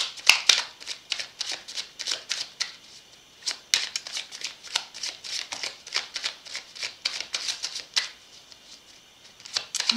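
Belline oracle cards being shuffled by hand, a steady run of quick crisp riffling clicks and slaps close up, with brief pauses between bursts and no talking.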